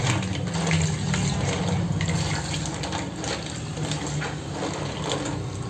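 Water poured from a tap or container into a cooking pot while making tinolang tahong (mussel soup), a steady splashing, gushing stream that runs continuously and close for several seconds with no talk over it.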